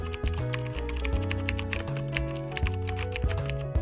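Rapid, steady clicking of fingers typing on a computer keyboard while coding, close and clear with no talking.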